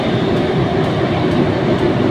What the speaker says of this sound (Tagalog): At sakay tayo ng tren.